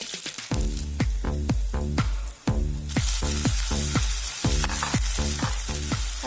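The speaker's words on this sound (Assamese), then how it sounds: "এতিয়া গৰম তেলত মই পিয়াজ কেইটুকুৰা দি দিছো।" Onion pieces frying in hot oil for a pork dish with roselle leaves: a steady, close sizzle runs throughout, punctuated by regular, evenly spaced thumping beats.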